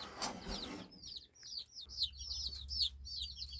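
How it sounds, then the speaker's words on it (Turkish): High, rapid peeping of young chicken and duck chicks in a coop, many small calls overlapping close by, with a low rumbling background and a brief noisy rustle at the start. "Kümesime civciv aldım. Ördek yavruları da aldım."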